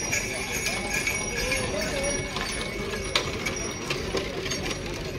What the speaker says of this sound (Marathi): फिल्म सिटीमध्ये बैलगाडी पण आली आता.